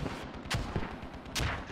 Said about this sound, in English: Mortars are coming in.